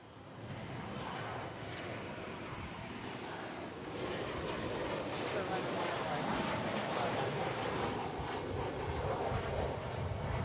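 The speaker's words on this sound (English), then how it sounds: "We welcome American Flight 1770 from Fresno, California, 737-800." An American Airlines Boeing 737-800 arriving at Dallas Fort Worth airport from Fresno, its engines making a continuous, moderately distant roar that swells slightly and holds steady throughout.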